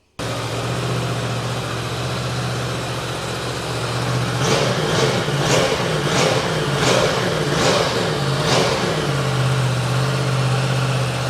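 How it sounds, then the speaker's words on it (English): A brand-new 2022 Yamaha R1M motorcycle runs on a dyno, idling steadily and close, then blipping through a rhythmic series of about six quick throttle revs before dropping back to idle. "we're gonna run this thing on the dyno, see what kind of baseline numbers we can get with just 4 miles on this brand new bike"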